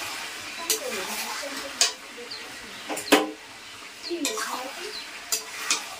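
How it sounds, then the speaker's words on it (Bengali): Chicken browning in its own released oil in a home pan, heard as a faint, steady low sizzle broken by sharp scraping clicks of stirring, with quiet voices in the background. "চিকেন থেকে তেল ছেড়ে দিয়েছে, এখন গরম জলটা দিয়ে দেবো, আরেকটু কষাবো"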